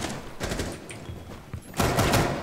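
Rapid bursts of gunfire in Rainbow Six Siege ranked play on PC crackle at moderate volume, with a heavier volley near the end.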